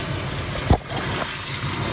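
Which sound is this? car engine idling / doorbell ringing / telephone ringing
car engine idling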